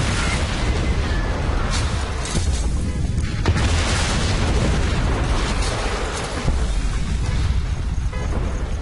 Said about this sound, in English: That is a huge explosion.